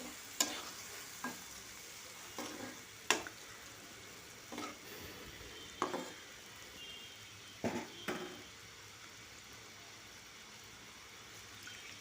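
Spices with a splash of water get stirred in a pan for a hilsa fish curry with eggplant and potato: quiet, separate scraping strokes, about eight, over a faint low sizzle.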